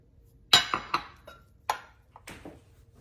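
A utensil clinks and scrapes against a bowl several times while butter and salt are mixed into steamed acorn squash, giving sharp separate taps with quiet pauses between them.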